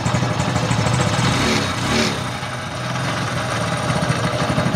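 A Honda CT125 motorcycle engine runs steadily up close, its idle carrying a rough, grinding mechanical noise from a worn camshaft bearing, with one brief rise in revs partway through.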